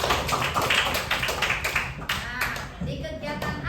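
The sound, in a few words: class clapping hands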